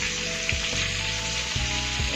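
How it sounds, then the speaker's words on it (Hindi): Egg-coated chicken wings fry in a kadhai with a steady, loud sizzle, broken by a few soft knocks as pieces shift in the oil. No one speaks. "अंडे से अंडा लगा के और फ्राई कर रही हूँ।"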